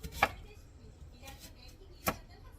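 Knife chopping radish into thin square slices on a cutting board for a blue crab stew, two distinct sharp chops about two seconds apart with a softer tap between, close and fairly quiet.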